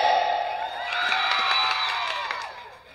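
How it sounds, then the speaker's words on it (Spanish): Crowd at a Villanueva talent contest cheering and applauding, a dense wash of whoops and clapping swelling near the middle and fading toward the end, with no clear talk above it. "Aplausos para el brother."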